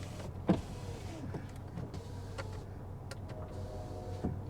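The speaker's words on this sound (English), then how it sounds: "All windows are working." Car power windows run in a few short electric motor whirs inside the cabin, a brief knock near the start, with no talk over them.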